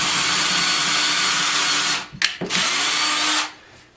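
A power drill fitted with a small bit boring into a plaster wall near a stud for a TV wall mount, a loud continuous whir that cuts out briefly with a couple of sharp knocks and then runs again before stopping.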